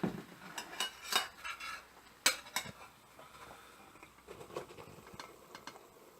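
Cooked bottle gourd scraped from a utensil into milk in a pan for kheer, with sharp metallic clinks and scraping of a spoon against the pan in bursts, followed by quieter soft stirring and light patter.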